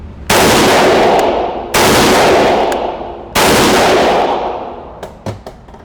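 Three loud, close rifle shots from a Springfield Armory Hellion 5.56x45mm bullpup, evenly spaced about 1.5 seconds apart, each a sharp crack with a long fading echo, followed by faint small clicks.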